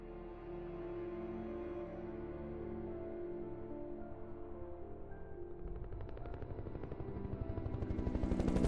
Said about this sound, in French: ils ont le courage de prendre un hélico.